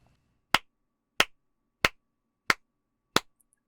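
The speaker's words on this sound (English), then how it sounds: "And clap it." Five sharp, isolated hand claps land at an even, deliberate pace about two-thirds of a second apart, each crisp and close against near silence.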